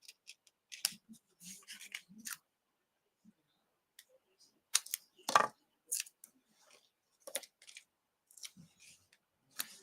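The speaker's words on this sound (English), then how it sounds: "So I'm just going to trim some of these off." Scissors snip the corners off paper for a Christmas papercraft box, giving close, crisp irregular cuts with quiet gaps between them.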